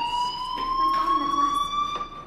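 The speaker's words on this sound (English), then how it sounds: "do you hear that fire alarm? That means you should be outside." A fire alarm rings in the video game Life is Strange Remastered as a steady electronic tone with a pulsing overlay. It is loud and continuous throughout.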